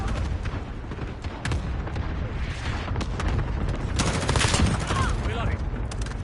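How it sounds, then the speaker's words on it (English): Cluster strike explosions in Call of Duty: Modern Warfare, a dense run of rapid booms and crackling blasts rolling on without pause, with heavier bursts toward the end amid the game's battle noise. "Allied cluster strike incoming."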